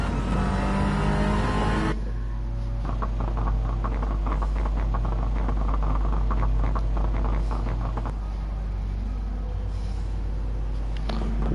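Race cars in a BTCC racing video game drone continuously, with a steady close engine hum and buzzing motor tones under a broad roar for the whole stretch.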